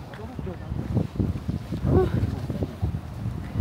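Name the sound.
strong wind outdoors in Nagoya, Japan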